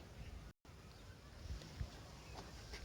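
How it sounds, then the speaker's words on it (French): Gusty wind buffets the microphone in a low, rumbling blast, with a brief dropout of sound early on. "c'est le vent."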